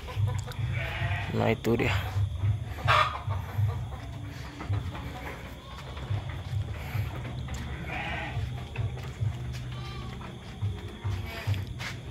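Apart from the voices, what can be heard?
sheep bleating in a pen at night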